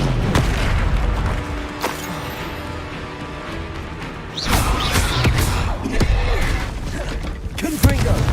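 Confringo blasting-spell explosions in the video game Hogwarts Legacy: repeated booming blasts and thuds over a dense, continuous layer of game sound and music, with a spoken spell call.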